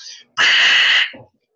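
A short burst of hissing noise, under a second long, sounding like a voice imitating white noise with a sharp shh.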